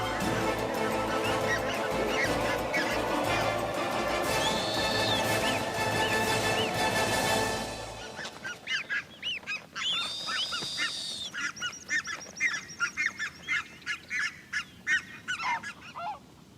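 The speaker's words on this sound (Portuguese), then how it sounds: "os gansos começam a perseguir os bufos" Geese on the Arctic tundra chasing snowy owls honk loudly and repeatedly, first under a dense wash of noise, then in clear rhythmic calls, close and insistent.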